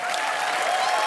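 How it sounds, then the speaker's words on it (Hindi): Audience applause for a child named Samarth on a TV comedy show, a dense, steady wash of clapping that fills the whole moment without any voices. "समर्थ के लिए जोरदार तालियां, बहुत क्यूट बच्चा है ये।"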